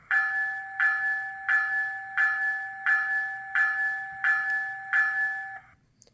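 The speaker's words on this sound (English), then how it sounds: "Starting with the bell." The bell of an HO scale model locomotive, a New Mexico RailRunner MP36PH-3C, rings steadily, about eight evenly spaced electronic dings with a bright tone, clear and close, then stops.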